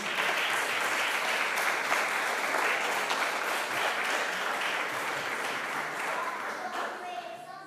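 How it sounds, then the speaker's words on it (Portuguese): A church congregation applauds to welcome a woman evangelist, a dense, steady wash of many hands clapping that fades slightly toward the end, with some voices mixed in. "Vamos receber a nossa irmã evangelista com uma salva de palmas para Cristo"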